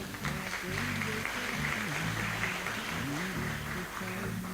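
Sustained applause from an audience welcoming guests at an education, culture and politics colloquium in San Juan Nepomuceno, steady and dense throughout with a low tonal hum beneath.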